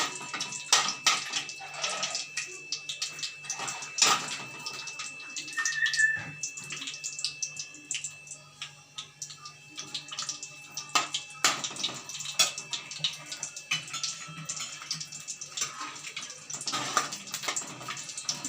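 Dry fruits fry in hot ghee in a pan for soft kesari bath, a faint, steady sizzle and crackle running under occasional scrapes and clinks from stirring.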